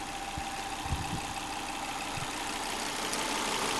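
A Volvo V70R wagon's engine idles with a steady, low continuous hum and a faint higher whine, no voices, even and unchanging throughout.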